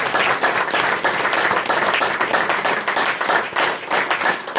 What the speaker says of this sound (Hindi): गुरुदेव के खूबसूरत विचारों के लिए जोरदार तालियां हो